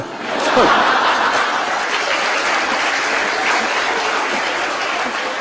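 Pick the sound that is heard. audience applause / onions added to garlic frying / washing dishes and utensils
audience applause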